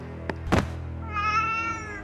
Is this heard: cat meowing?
yes